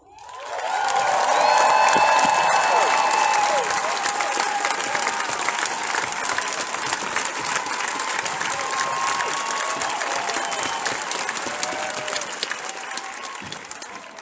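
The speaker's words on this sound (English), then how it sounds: "So continue to make some noise for Grace." A live audience at an evening event in Denver breaks into loud, sustained applause mixed with cheers and whoops that fills the room and then slowly tapers off.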